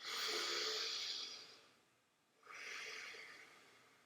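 Two long, deep breaths drawn through the nose during a sinus massage, each a broad airy rush, the first longer, the second after a short pause, close and fairly soft with no talking.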